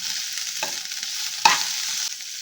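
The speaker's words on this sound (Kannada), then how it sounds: "ಸ್ವಲ್ಪ ಕೊತ್ತಂಬರಿ ಸೊಪ್ಪು ಫ್ರೈ ಮಾಡ್ಕೊಳ್ಳೋಣ." Coriander leaves frying in hot oil in a pan with onions and spices, a steady close sizzle with a couple of brief stirring scrapes and no voices.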